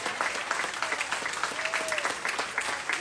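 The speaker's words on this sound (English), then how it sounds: "I want you to clap like you want folk to appreciate your dream, your idea, and your concept." An audience at a grand opening in Atlanta, Georgia claps in a dense, continuous round of applause, with a few voices audible among the clapping.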